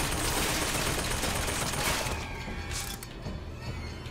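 Automated turret firing in Bioshock Infinite, a dense, sustained burst of rapid gunfire that stays loud throughout and tails off slightly near the end.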